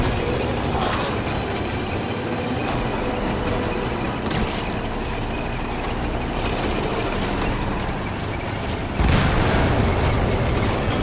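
A vehicle-mounted weapon fires in Metal Gear Solid V: The Phantom Pain, a few heavy booms over a steady engine rumble, with a louder blast near the end.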